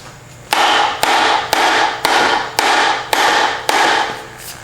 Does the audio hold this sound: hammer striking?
yes